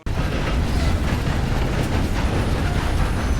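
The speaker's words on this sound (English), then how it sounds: "I came here to steal something. I'm stealing this train." A stolen train running in Red Dead Online, a loud steady rumble with clickety-clack wheel noise that fills the clip with no voices.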